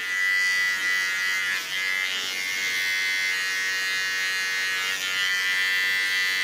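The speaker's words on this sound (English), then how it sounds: "Ja, come to my small clipper. Clean the contour with it." A small electric hair clipper trimming the hair contour, a close, steady high-pitched buzz that wavers slightly as the blade moves against the hair.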